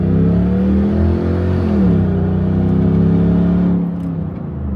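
A Lexus GX470 with a louder aftermarket exhaust runs loud and deep with a throaty exhaust rumble, revving up briefly then settling back to a steady drone.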